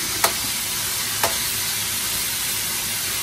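Pork meat frying in a pan until golden brown for a quick noodle dish, a steady broadband sizzle throughout with two brief sharp clicks of stirring near the start.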